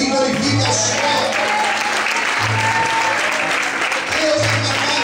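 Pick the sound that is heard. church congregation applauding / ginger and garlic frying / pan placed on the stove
church congregation applauding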